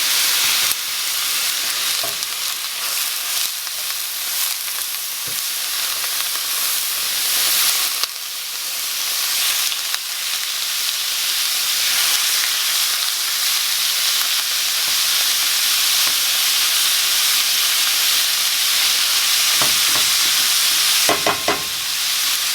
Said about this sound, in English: I'm just going to cook this beef until it is completely cooked through.